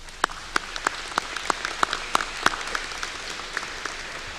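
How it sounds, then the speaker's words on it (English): At a summer master's degree commencement ceremony, an audience gives a thin, scattered round of applause: distinct individual handclaps spaced out and fairly quiet, fading off toward the end. "show your appreciation with a round of applause for all of those who have supported you in this endeavor"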